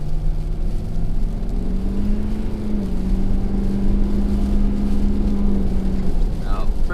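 A 2017 Ford F-250 pickup engine drones steadily as it accelerates on an icy, snowy road, a loud low rumble with road and Toyo AT2 tire noise, a voice speaking briefly beneath.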